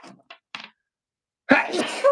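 One close, sharp human sneeze bursts out after a few soft, faint sounds and a short quiet pause.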